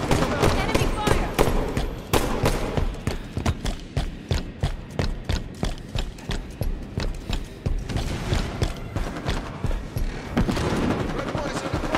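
Sustained gunfire in a Halo 5 multiplayer match, with rapid bursts of shots and booming impacts running throughout at a loud, close level, and a voice calling out over the battle.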